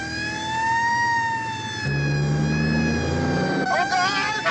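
A police car siren in a film rises and wails loudly and continuously alongside engine rumble, its pitch steady at first and then wavering, with no speech over it.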